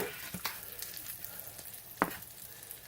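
Pretzel-crusted pork chops fry in a pan with a soft, steady sizzle and a few sharp clicks from handling the meat.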